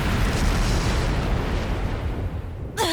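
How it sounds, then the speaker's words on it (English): A flash grenade goes off in a Trails of Cold Steel 3 battle, a loud sustained roaring blast filling the scene, cut off near the end by a sharp shout. "Flash grenade! Everyone down!"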